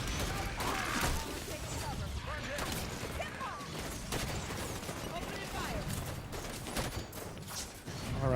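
Grenades are thrown at rushing crawlers in Halo 5: Guardians, producing a dense stretch of explosions and gunfire crackle that stays continuous and loud across the whole clip, with speech mixed in.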